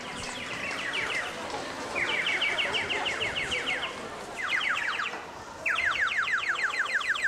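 Toy fake birds sold in a street, emitting repeated rapid trilling chirp bursts in several separate runs over a steady noisy outdoor background, fairly close and clear.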